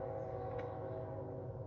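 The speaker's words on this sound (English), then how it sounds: "now we got a train coming by. I don't mind the sound of a train" A passing train gives a steady, fairly loud rumble with a sustained tonal hum, heard close by outdoors near a crossing, with no talking.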